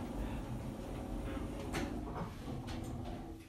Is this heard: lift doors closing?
yes